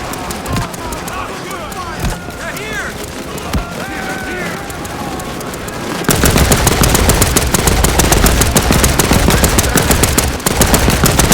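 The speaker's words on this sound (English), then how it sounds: "get on that machine gun!" Sustained machine gun fire in the Land of War war video game, a dense rapid rattle of continuous shots erupting loudly halfway through after a stretch of battlefield ambience with scattered distant pops.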